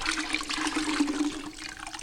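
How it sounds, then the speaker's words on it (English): A grout sponge being squeezed and worked in a bucket of water gives close, continuous sloshing and splashing with dribbling water throughout. "I'm just kind of working the sponge in the water there to get the"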